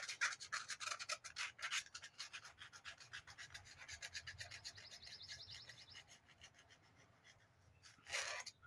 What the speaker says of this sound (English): So I'll make sure we clean it around our seal here, because we want to make sure we get a good seal around our bowl.